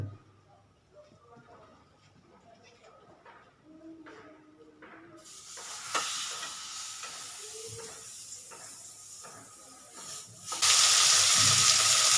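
Pieces of koi fish dropped into hot oil for a Bengali winter dish, sizzling and hissing loudly from midway on and swelling to a strong, steady fry near the end, with soft clatter and quiet talk before it.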